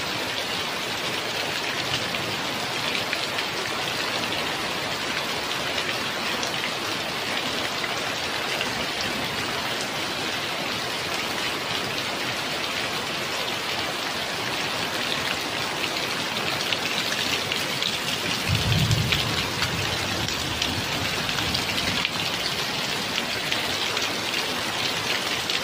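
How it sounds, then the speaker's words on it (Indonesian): Very heavy rain pours down in a village during a storm, a dense, steady roar of falling water lasting throughout with a brief low thump partway through and no voices. "hujan ini sangat lebat ya"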